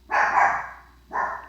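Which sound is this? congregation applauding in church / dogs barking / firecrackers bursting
dogs barking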